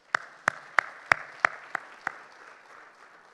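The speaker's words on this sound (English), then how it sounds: "Please give them a round of applause." Seven sharp, evenly spaced hand claps at a keynote speech honoring sponsors, each crisp and distinct, fading into quiet room tone afterward.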